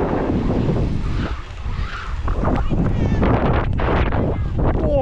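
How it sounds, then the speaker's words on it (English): Strong gusty wind buffets the microphone at an outdoor skate park, a steady loud rumble running throughout with brief dips, while people talk and exclaim over it. "Whoa, it's so windy."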